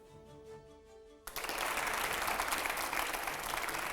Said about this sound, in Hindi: जोरदार तालियां हो अनु जी के लिए सर